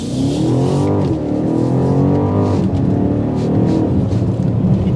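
A 2023 BMW X5 M50i with a twin-turbo V8 accelerates hard, its loud engine note rising steadily through the gears with a brief dip at a shift, dominating throughout with no talk.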